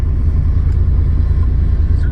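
Inside a moving car, a steady low road rumble and engine drone fill the cabin, loud and unbroken, with no voices over it.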